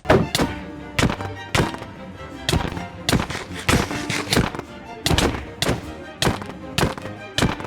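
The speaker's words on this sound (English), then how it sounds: "Orbital strike cannon fire!" An orbital strike cannon firing in a Minecraft game, a rapid rhythmic series of heavy booming thuds, about a dozen loud hits spaced roughly half a second apart, alone without talk.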